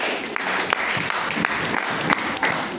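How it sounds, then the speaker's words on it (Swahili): Congregation applause during a church service, a steady wash of many hands clapping together at moderate loudness, with a few sharper claps standing out and no speech over it. "makofi mazuri"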